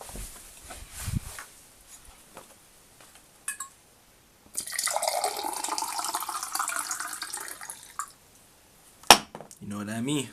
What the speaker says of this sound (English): I'm gonna take a sip of some water